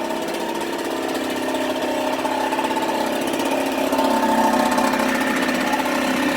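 A small engine runs steadily at close range, a loud, even mechanical drone with a fast rattle throughout and no voices.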